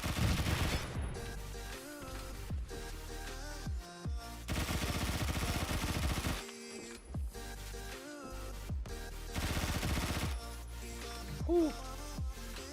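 MP5K submachine gun firing in Phantom Forces, rapid bursts of automatic shots in quick strings separated by brief pauses, loud and close over game background sound.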